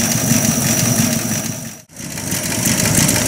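A Buick Roadmaster engine idles steadily and fairly loud during idle mixture screw adjustment, its rumble dipping briefly near the middle before settling back to an even idle.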